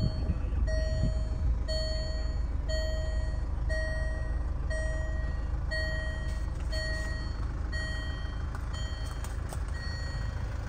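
A 2.2 SD4 automatic 4WD Land Rover Freelander 2 in reverse gives a regular, evenly spaced series of parking sensor beeps over a steady low idling engine rumble. The beeps quicken slightly toward the end.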